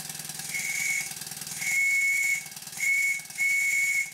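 Steam whistle on a model traction engine at low boiler pressure, about 40 psi, giving four short, thin, rather feeble toots over a constant steam hiss, close by with no voices.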